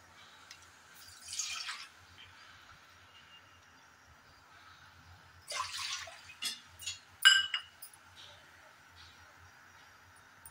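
Water is poured into a cooking pot to make semolina modak dough. It comes as a few brief, fairly faint splashing bursts separated by quiet stretches.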